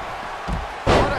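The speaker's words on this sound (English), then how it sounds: "Slam." A heavy body slam thud in the WWE 2K20 wrestling video game, one loud impact with crowd noise after a softer thump just before it.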